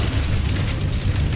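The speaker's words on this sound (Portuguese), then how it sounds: "e o fogo" Crackling, roaring fire sound effect, a dense broadband rumble with scattered crackles, continuous and fairly loud, no voices.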